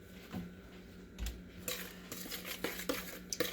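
A utensil stirs vegan chik'n patty mixture in a bowl with close, scraping clinks and knocks against the sides, repeating irregularly in quick strokes over quiet room background.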